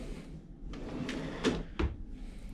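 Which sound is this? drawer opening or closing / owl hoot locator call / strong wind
drawer opening or closing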